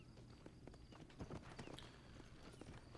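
Horse hooves clip-clop in Red Dead Redemption's New Austin: faint, irregular hoof knocks under a low hum of game ambience.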